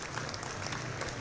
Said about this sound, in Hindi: तालियों से सीएम योगी आदित्यनाथ का स्वागत करते हुए